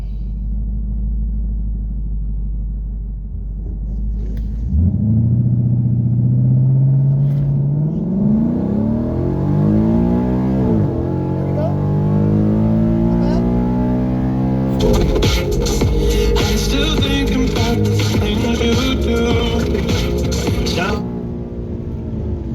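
A 2015 Ford Mustang with a 6R80 automatic and modified exhaust, held on the e-brake at a drag strip, then launching: loud close engine rising through rev sweeps and gear changes, a sustained roaring pull with a harsh broadband exhaust blast near the end.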